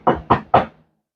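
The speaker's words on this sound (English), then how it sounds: "It's a knock at her bedroom door" Three firm knocks land on a bedroom door in quick, even succession, close and resonant, then silence.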